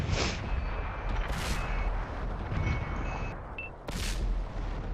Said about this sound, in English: Shots are just being fired from everyone.